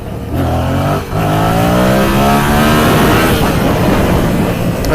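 A Yamaha MT-07 motorcycle engine revs hard in second gear for a wheelie, a loud close roar that dips briefly, then climbs steadily in pitch and holds high for several seconds.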